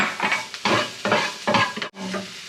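Vegetables sautéing in oil, sizzling under repeated bursts of stirring and scraping in a pan, close and fairly loud, with a brief pause near the end.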